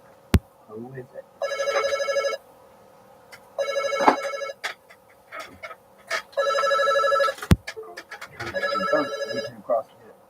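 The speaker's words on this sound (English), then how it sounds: "Got a phone call coming in." A telephone rings for an incoming call in four repeated electronic bursts, each about a second long, with clicks and faint voices between them.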